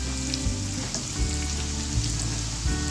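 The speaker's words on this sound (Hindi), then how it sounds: "जैसे ये एक तरफ से फ्राई हो जाएगा इसको अलग पलट के दोनों साइड से फ्राई कर लेंगे क्रिस्पी होने तक" Veg spring rolls with homemade wrappers frying in hot oil, a dense continuous sizzle and crackle close by, steady and fairly loud with no voices.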